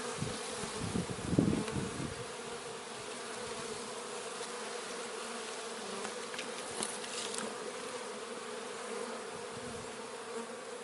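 Honey bees hum around an open hive during a transfer to raise a new queen, a dense, steady buzzing swarm close by with a louder pass of wings near the start.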